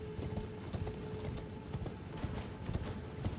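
Horse hooves in the video game Elden Ring clop in a steady, repeated rhythm at moderate volume over a faint hum, with no speech.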